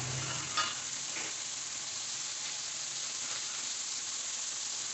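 Onions frying in a pan for a roasted coconut soy chunk and potato curry, a steady close sizzle and hiss that runs without a break, with a brief stir near the start.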